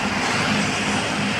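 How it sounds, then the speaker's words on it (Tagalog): Motorcycles speeding past on a street, a continuous broadband engine roar and rush of passing traffic, fairly close and loud, with no pauses. "Ayan, nagliliparan ng mga motor."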